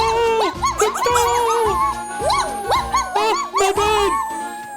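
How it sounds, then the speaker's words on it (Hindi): A cartoon dog yaps and whimpers in quick repeated bursts over a busy musical score, loud and close, with a voice shouting alongside. "कुत्ता, कुत्ता,"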